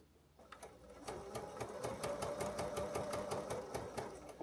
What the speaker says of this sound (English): about 1 inch from the bottom is where I'm going to lift my presser foot and come off at a diagonal